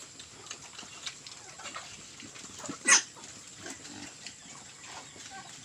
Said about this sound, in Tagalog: walong pirasong baboy po ka-farmers